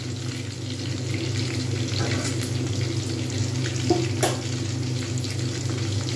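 Chicken pakora deep-fries in hot oil in a home kitchen, a steady, even sizzle running throughout, with a couple of brief sharper crackles near the middle.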